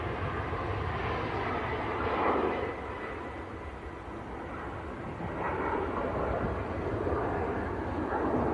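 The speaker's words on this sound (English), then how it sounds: "And the TUI Dreamliner also on the pushback." A TUI Dreamliner airliner on pushback at Manchester Airport, heard as a steady, broad distant jet engine roar with gentle swells, outdoors with faint wind, no voices.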